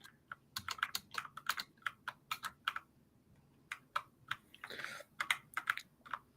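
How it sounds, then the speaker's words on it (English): Fast, uneven keystrokes clatter on a computer keyboard close by, in quick bursts with one short pause in the middle, with no talking. "And while Bobcat is typing"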